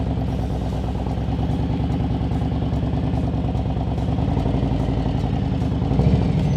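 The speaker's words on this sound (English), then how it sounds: "As soon as the bike starts moving," A motorcycle engine runs at a low, steady throb as the bike eases away slowly with the clutch slipped in the friction zone, close and even, with the engine note rising slightly near the end.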